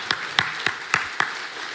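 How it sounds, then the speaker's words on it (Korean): A church congregation at a thanksgiving revival service claps in unison, five sharp, evenly spaced claps over under two seconds, close and moderately loud, with no voices. "심는 거 다 거두게 해주실 주님께 감사와 영광의 박수를 올려드리십시오"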